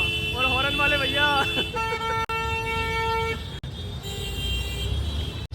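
Several car horns honk in busy traffic in Varanasi, one sounding a repeated warbling tone and others holding steady blasts, over constant road rumble and nearby voices.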